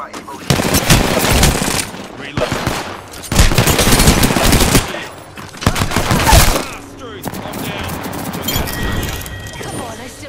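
Rapid automatic gunfire in an Apex Legends match, several loud bursts of fire separated by short pauses, close and harsh, followed by quieter gear and reload clatter.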